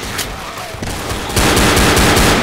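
Rapid automatic gunfire in Left 4 Dead, loud and close, a fast rattling stream of shots that grows heavier and denser partway through.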